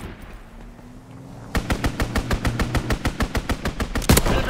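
Rapid machine-gun fire from a strafing run in the video game Call of Duty WWII, a long evenly spaced burst of loud sharp shots beginning after a quieter rumbling stretch, with a heavier blast near the end.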